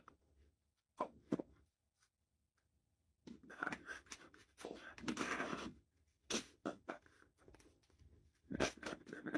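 Tarot cards are shuffled by hand in uneven bursts of papery rustling and slapping, close and fairly soft, with short silent gaps between handfuls.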